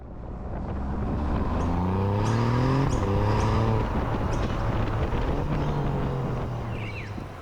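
Engine and road noise from an Alfa Romeo Giulia Quadrifoglio sedan with an 8-speed ZF gearbox and Ferrari-derived engine, droning steadily while driving, with rising gear-change tones and wind rush throughout.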